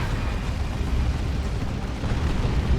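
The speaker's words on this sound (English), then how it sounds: "And there's a really good rocket run." A rocket run in the video game Dawn of War 2, Orks against Imperial Guard, rumbles as a dense, continuous roll of heavy explosions, loud and deep throughout with no single distinct blast.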